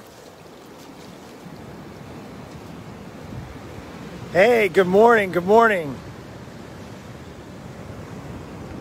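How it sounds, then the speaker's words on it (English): Ocean waves breaking on a shore form a continuous broad wash of surf with wind buffeting the microphone, while a voice briefly speaks a greeting over it partway through. "Got some good waves going on."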